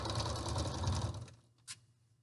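A sewing machine stitches a seam on an isolation gown. The close, steady motor whir and needle chatter run for just over a second, then stop, leaving a brief click in near silence.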